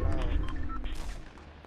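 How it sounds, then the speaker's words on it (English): Gunfire in a Fortnite match, a dense burst of loud blasts and booms at close range, with a player's voice briefly audible over the shooting. "Oh my god, gunfire!"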